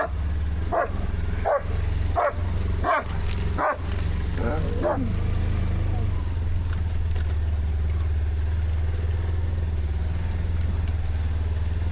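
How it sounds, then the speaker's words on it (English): A dog barks about six times in a steady rhythm outdoors, loud and close, before a low engine starts up and rumbles on continuously. "She's gonna bark before we crank it up."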